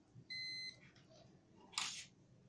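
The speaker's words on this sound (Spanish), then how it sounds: "Vamos a escuchar un pitido." A multimeter in continuity mode beeps while testing a microwave's high-voltage fuse, giving one short steady electronic tone followed by a brief hiss-like click of probe contact, faint and without talk.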